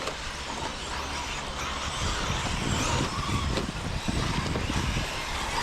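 Electric RC truggies racing on an outdoor track make a continuous, busy whine of motors and tyres, with engine tones rising and falling as the cars pass.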